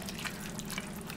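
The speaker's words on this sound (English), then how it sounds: "But I'll just pour it until I like to see the water level when I put it in." Water pours steadily into a cooking pot while making white bean chicken chili, a continuous splashing trickle close by with no talking.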